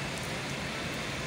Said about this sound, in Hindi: बारिश हो गई है बहुत तेज़